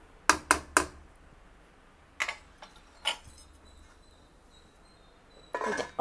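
Lid going onto a container of Telangana-style ginger-garlic mango pickle: several sharp, close clicks and taps spread across quiet gaps, with a short cluster of rattling at the end.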